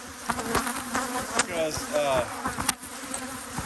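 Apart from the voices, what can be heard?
honey bees buzzing around a honey super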